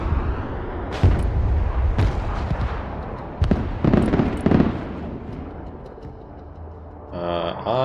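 Artillery fire in the video game Broken Arrow: several heavy, booming blasts with rumbling tails land at irregular intervals over a dense battle din, and a voice speaks briefly at the very end.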